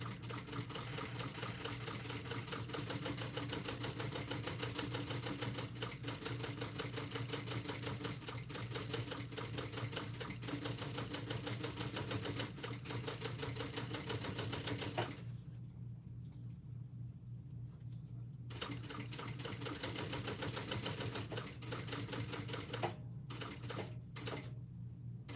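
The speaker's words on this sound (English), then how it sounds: "So that it almost looks like I'm stitching right back in to those stitches that I had previously made." Sewing machine steadily stitching a crossbody bag, a dense continuous mechanical whir at close range that pauses briefly partway through, then resumes in shorter bursts near the end.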